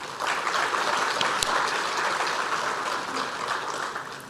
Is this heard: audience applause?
yes